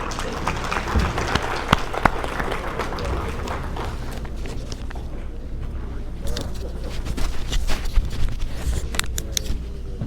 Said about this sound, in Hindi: आपकी ढेरों तालियों में मोहतरमा नैना आदिल साहिबा